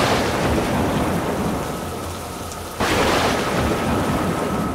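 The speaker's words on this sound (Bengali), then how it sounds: "আর মাঝে মাঝে কানে আসছে প্রবল বজ্রপাতের শব্দ, যেন আকাশের বুক চিরে নেমে আসছে।" Thunder crashes over steady heavy rain in a cartoon storm scene, with a loud sudden burst near the middle swelling into a long rumble while the downpour hisses continuously throughout.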